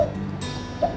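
A pet bird kept since it was a chick gives two short, bright chirps, one at the start and one near the end, over a quiet room with a faint steady background hum.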